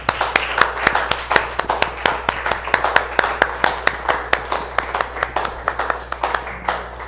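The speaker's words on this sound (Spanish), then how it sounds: "Denle un aplauso a nuestro Dios." Steady, rhythmic hand clapping from a church congregation during a Spanish-language service, the sharp claps falling in a regular beat for several seconds, fairly close.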